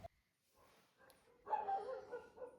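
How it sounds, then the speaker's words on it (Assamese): Dogs outside at night in Uttarakhand bark and yelp faintly and at a distance. A sharp click comes first, then a louder burst of barking in the second half. "আৰু বাহিৰত কুকুৰে ভুকি আছে"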